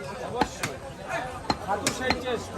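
An expert butcher chops beef with heavy blows, giving about seven sharp, close thwacks at an uneven pace over background chatter and voices.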